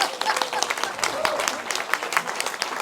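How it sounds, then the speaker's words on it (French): Audience at a Christian testimony gathering applauds, a brisk, dense clatter of many hands lasting a few seconds, with voices mixed in among the clapping. "Là, vous pouvez l'applaudir,"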